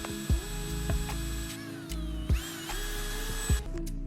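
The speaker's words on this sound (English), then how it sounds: "start with a small bit for a pilot hole" A power drill boring a pilot hole with a small bit into PVC pipe for an airsoft suppressor, a steady close motor whine with brief bursts and pitch shifts as the bit bites and the trigger is eased.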